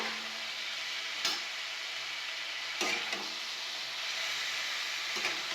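Snake gourd posto being stirred in a pan, a faint continuous sizzle with three brief scraping stirs spaced a second or two apart.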